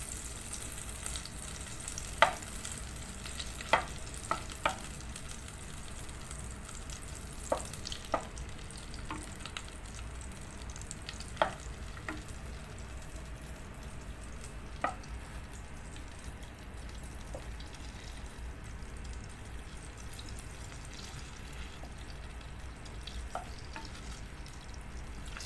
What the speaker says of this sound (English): Continue stirring until it's all melted.